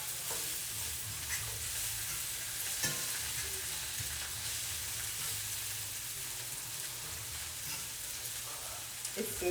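Smoked sausage frying in a pan with peppers and onions, a steady close sizzle with crackling and occasional stirring, with no voices over it.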